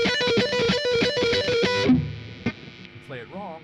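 A fast shred lick on a distorted electric guitar, played with correct timing, rips by loud and close for about two seconds, then trails off into fainter, scattered sounds.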